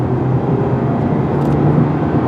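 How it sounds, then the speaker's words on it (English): A 2021 Hyundai Elantra Hybrid Limited accelerates at full throttle, giving a steady, loud broadband drone of engine and road noise with no talking. "Let's hit the throttle, see what happens."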